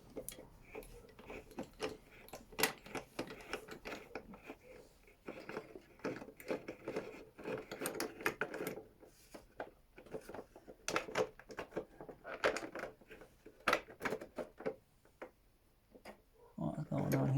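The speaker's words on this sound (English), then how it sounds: "Let me get the ratchet." A ratchet works a tight bolt on a Honda CBR 750 motorcycle with a run of sharp, irregular clicks and taps, near and fairly faint, under occasional talk.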